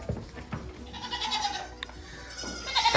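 Goats on a farm bleat a few times nearby, with short calls scattered over a low background and a louder bleat rising at the end.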